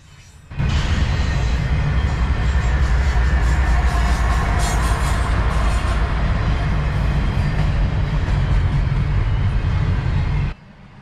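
A heavy CSX intermodal freight train over 2.7 miles long rumbles past steadily close by in Nashville, a continuous loud roar with rattling wheels that starts abruptly and cuts off near the end.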